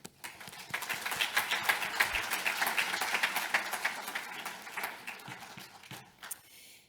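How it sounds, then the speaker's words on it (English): Applause from a summit plenary audience swells quickly and holds at a moderate, distant level before tapering off into a few scattered claps. "And I think you all deserve a huge round of applause."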